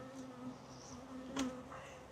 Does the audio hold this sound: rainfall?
no